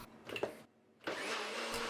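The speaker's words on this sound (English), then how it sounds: "pop that into a NutriBullet or a blender" A NutriBullet blender whirs as it purées roast chicken juices and leftover vegetables for gravy. Two short bursts of motor noise are split by a brief pause, and the second run is steadier and louder.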